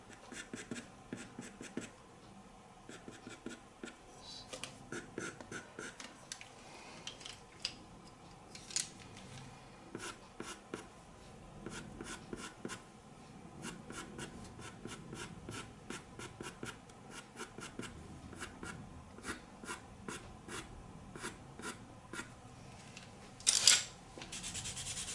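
A pastel pencil scratches across paper while fur strands are drawn on an animal picture, producing quiet, rapid, irregular strokes in short bursts, close and soft, with no talking.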